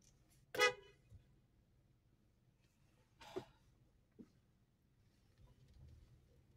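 A car horn gives a couple of short honks from inside a car on a drive, a sharp near toot followed a few seconds later by a second one, with quiet cabin noise between.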